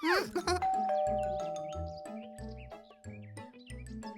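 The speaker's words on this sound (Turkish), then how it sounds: "Ben zili çalayım." A doorbell rings with a two-tone ding-dong, then a short melodic chime tune plays on, alongside some squeaky cartoonish chirps.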